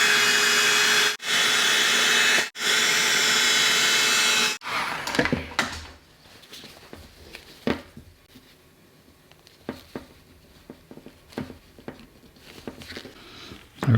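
A loud, steady rushing blast, like a heat gun or torch, warms a propane hose for a dual fuel generator hookup. It runs in three bursts with brief gaps and then cuts off, leaving soft handling clicks and taps.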